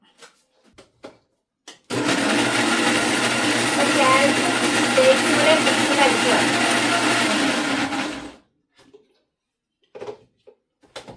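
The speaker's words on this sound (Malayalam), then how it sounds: "ഇനി ഇത് മിക്സിയിൽ നന്നായിട്ടൊന്ന് അടിക്കട്ടെ" A mixer grinder blending dates whirs loudly and steadily for about six seconds, then cuts off, with brief clicks and handling noises before and after.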